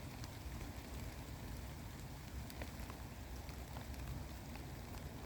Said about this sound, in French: Laissons la pluie nous purifier.